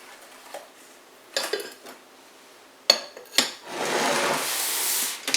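New ceramic-style dishes and bowls being unboxed and handled, with a few separate clinks and knocks, then a longer rubbing, scraping stretch near the end, heard close and fairly quiet, with no speech.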